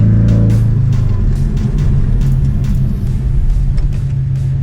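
A car in an empty cul-de-sac gives a loud, close engine rumble that holds steady through most of the stretch, then shifts in tone near the end, with no talk over it. A hard stop is hard to pick out clearly.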